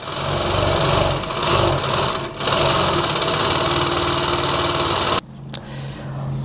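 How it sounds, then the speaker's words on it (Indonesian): A small Singer overlock sewing machine, running stiff and in need of oil, whirs loudly and steadily for about five seconds before cutting out, leaving a quieter room with faint clicks. "Kita obras dulu bentar. Ini saya pakainya obras yang mesin kecil teman-teman ya. Ini mereknya Singer."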